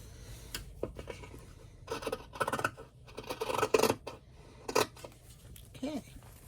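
Scissors trim quilt fabric in a series of close crisp snips and slicing cuts, irregular and moderately quiet, with small handling rustles between them.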